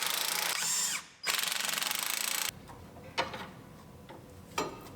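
Tools tighten the front strut bolts on a Honda Civic during an engine install: a steady mechanical ratcheting whir for about a second, a brief pause, another run, then a few separate metallic clicks and knocks.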